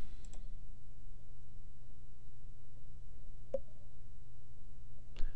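A computer mouse gives a few sharp, isolated clicks against a quiet background hum, with no talk.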